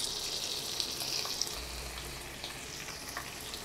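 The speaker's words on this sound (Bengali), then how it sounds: "একটু আদা রসুনটা নেড়ে মিশিয়ে দিচ্ছি" Ginger-garlic paste is stirred into golden fried onions for chicken rezala, giving a low, steady sizzle with faint spoon scrapes throughout.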